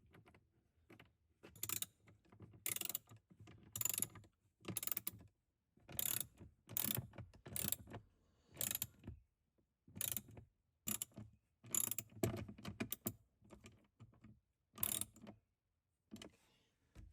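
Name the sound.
tightening screws with a ratchet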